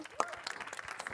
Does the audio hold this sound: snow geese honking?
no